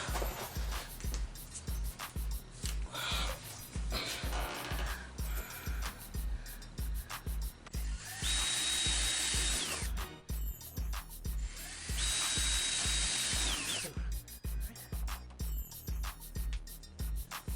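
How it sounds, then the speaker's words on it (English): A power drill bores rivet holes in a plastic car bumper while fitting Lexus LS460 bumpers onto an LS400. It gives two sustained whining bursts over a busy background of rapid ticking and clatter. "So I'm gonna have to drill the holes for the rivets."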